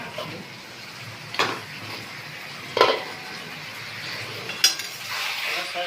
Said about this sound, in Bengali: সব মশলা দিয়ে দিয়েছি, কষছি ভালো করে।